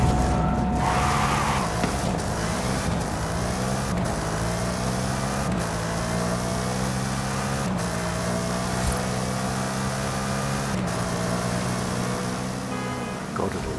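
Brocky car in a racing video game accelerating hard, its engine droning loud and steady with rising harmonic tones that climb through the gears, running continuously without talk.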